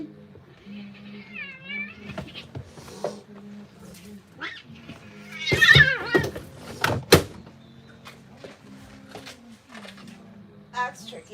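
A cat lets out a few meows, close by, while a person murmurs and talks softly nearby, with some brief rustling and knocks.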